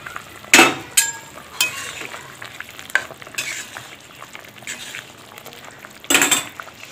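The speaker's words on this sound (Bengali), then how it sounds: "ভাজা মাছটা দিয়ে নেব।" Fried hilsa fish goes into a simmering curry with taro and eggplant in a pot, giving a bubbling sizzle, scraping stirs and sharp clinks of a utensil against the pot in irregular bursts.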